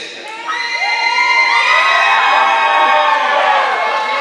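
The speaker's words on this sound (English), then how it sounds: "you can cheer for him all you want" A crowd at a live event breaks into loud cheering, with shouts and whoops rising after a brief build and sustaining in a dense, excited roar.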